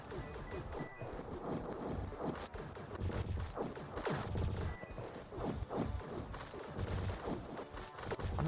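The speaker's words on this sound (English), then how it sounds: "They're really small explosions on the ground from the cluster rockets." Small ground explosions from cluster rockets in a video game pop in rapid, overlapping bursts, a scattered run of sharp cracks and thumps that continues without a break.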